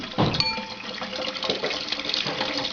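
Water runs from a tap outdoors in a continuous splashing gush, with light metallic clinks mixed in, fairly close and steady throughout.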